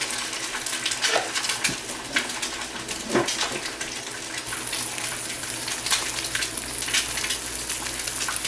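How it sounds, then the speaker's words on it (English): A cracked egg fries in a pot with steady crackling sizzle, a dense even hiss broken by small pops, loud and close with no voices. "I'm just gonna crack my egg in, pop my yolk, and get some salt."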